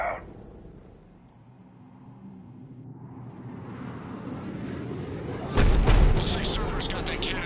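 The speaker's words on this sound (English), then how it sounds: "Looks like Cerberus got that cannon operational, Commander." A heavy cannon blast in Mass Effect 3 erupts partway through, a loud booming shot rising out of a building low rumble and sci-fi ambience, followed by a sustained roar; speech-like game sounds sit in the background.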